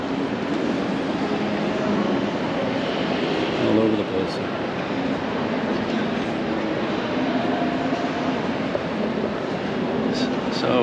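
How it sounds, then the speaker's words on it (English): Ambient sound inside a multi-level train station: a steady, dense rumble of rail traffic, machinery and crowd noise fills the space, with someone speaking over it near the end. "a bit of a tour of the train station here. We've got several levels of trains"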